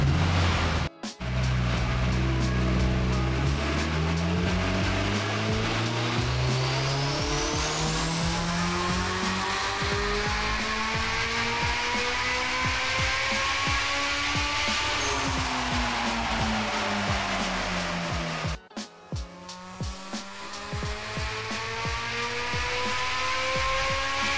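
A turbocharged Honda Civic runs low boost pulls on a dyno, its engine climbing steadily in pitch over about fifteen seconds with turbo whine rising above, then easing off and building again in a second pull, loud and close with no talk.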